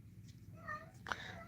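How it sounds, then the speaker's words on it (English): A domestic cat meows twice nearby, first a short mid-pitched call and then a sharper, louder one, over quiet room noise. "decided to go yell at whoever's meowing"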